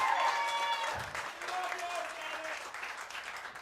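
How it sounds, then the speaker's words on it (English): An audience at a comedy show claps in a steady burst of applause that slowly thins out, with some voices mixed in. "Yeah, all right, you can clap for that."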